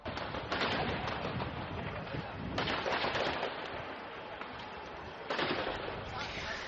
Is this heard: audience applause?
no